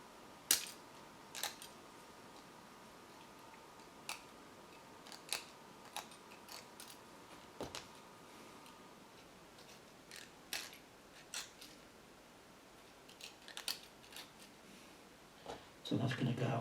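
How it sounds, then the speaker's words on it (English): Sharp, isolated clicks and snips from a knife cutting MDF model kit parts free of their frames, spaced irregularly a second or two apart against quiet room tone, with a brief rustling burst near the end. "So I'm going to just snip that out with my knife there."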